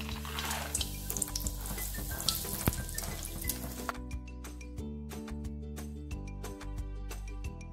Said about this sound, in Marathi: शेंगदाणे तळून घेऊ